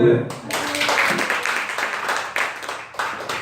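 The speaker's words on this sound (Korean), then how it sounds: "할렐루야 박수" A church congregation during a Sunday worship service gives a brief round of applause, scattered hand claps rising and fading over a few seconds with a voice speaking over them.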